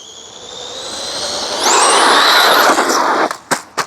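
A Tamiya Hornet RC car motor winds up at partial throttle, a rising high-pitched electric whine that swells loud and close, then drops off with a few sharp clicks and bumps at the end.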